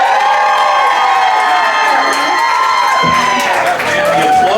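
A crowd at a live music venue cheers and shouts loudly and continuously for a band of young performers, with high voices and whoops standing out over the din.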